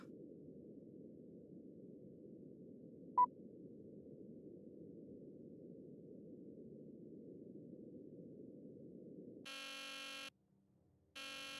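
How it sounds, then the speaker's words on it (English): Alarm in a Nancy Drew video game: after a long faint hiss with one tiny blip, a harsh electronic buzzer blares in two loud bursts split by a short gap. "This was not what I expected when I set the alarm."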